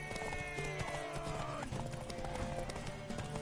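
Horse hooves clip-clop in The Witcher 3 video game, brisk steady footfalls amid game ambience, with voices and a neigh mixed in.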